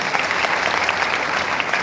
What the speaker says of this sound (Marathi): एकदा जोरदार टाळ्यांचा कडकडाट झाला पाहिजे असं मला वाटतं